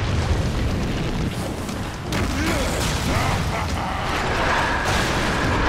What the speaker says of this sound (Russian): Так, он взрывается.